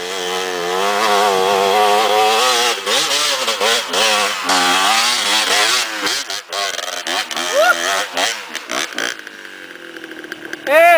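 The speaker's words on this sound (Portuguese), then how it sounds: "Ele na moto, Thiago Valadão." Dirt motorcycle revving and climbing a rough hillside trail, its buzzing engine rising and falling close by with shifting pitch, while voices talk over it and the engine note thins toward the end.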